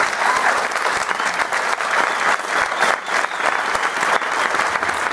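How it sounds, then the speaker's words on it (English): A fitness event crowd at Beachbody Super Saturday in Alpena, Michigan, bursts into loud, sustained applause, a thick wash of many hands clapping close by with a few voices faintly mixed in. "You guys stand up and just give a huge round of applause."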